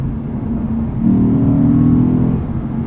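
A 2020 Lexus RC F engine hums low, then swells into a throaty rev for a second or so before easing back, heard up close with no voices.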